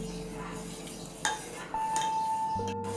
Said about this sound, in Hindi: इसको अच्छे से ऐसे हिलाते हुए हमें पकाना है।